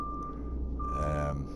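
Beeping from a truck reversing in the Truck Driver video game: a steady electronic tone holds over a low engine rumble, with a second tone layered in partway through.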